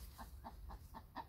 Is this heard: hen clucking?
yes